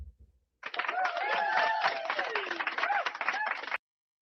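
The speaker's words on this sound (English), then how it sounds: "did she really just put the applause on?" A burst of applause from a crowd sound effect, dense clapping with a few whoops, lasting about three seconds before cutting off abruptly.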